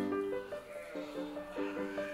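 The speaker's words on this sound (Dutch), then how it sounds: "Het Kempisch schaap wordt gekweekt voor het beheer van onze natuur en ook voor voeding." Kempen sheep, a breed raised for nature management and food, bleating repeatedly in a flock, several overlapping calls at moderate distance with no talk.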